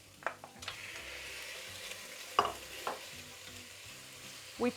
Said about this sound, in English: And now we add our meat.